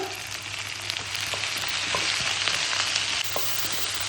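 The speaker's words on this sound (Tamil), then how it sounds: "தண்டங்கீரையோட தண்டு நல்லா வதங்கிட்டு இருக்குது." Amaranth stems sizzle steadily in a hot pan with onion, tomato and chili, a continuous bright frying hiss with occasional small pops and stirring scrapes, close and even throughout.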